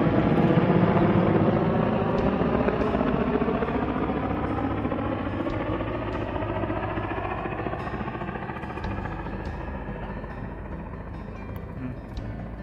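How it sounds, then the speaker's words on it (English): A helicopter drones steadily overhead in a remote mountain area, loud at first and slowly fading as it moves away, with no talking. "all the essential things have to be dropped by the helicopter."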